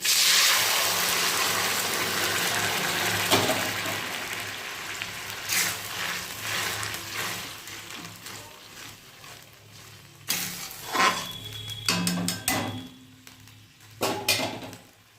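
Leafy greens poured into garlic fried in a pan, bringing a steady sizzle that surges into bursts of loud hissing and stirring near the end.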